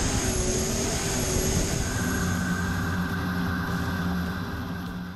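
Racing jet boat's jet pump engine roaring during the 2022 NZ Jet Boat Marathon, a loud, continuous droning roar with steady tonal whine that eases slightly toward the end.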